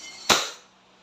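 A single shot from a Crosman SNR 357 airgun revolver in single action, one sharp, loud crack that fades quickly into quiet.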